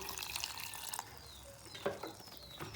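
Water is poured into a pot of cassava dough while banku is cooked for a fish stew, a soft steady trickle with a few faint clinks, heard alone.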